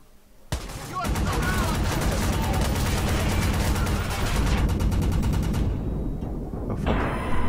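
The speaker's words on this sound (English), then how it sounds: "those are definitely bullets." Sustained gunfire in the Watch Dogs video game, a loud, dense burst of rapid shots that runs for several seconds before cutting off, then a brief return of firing at the end.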